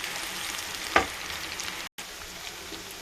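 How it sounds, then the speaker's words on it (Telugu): Onions and curry leaves frying in a pan for kakarakaya gojju, a steady close sizzle with a sharp stir or clink near the middle and a brief dropout before the hiss resumes. "ఎర్రగడ్డలంతా బాగా మగ్గేంత వరకు బాగా వేయించుకున్నాం"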